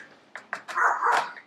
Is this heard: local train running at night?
no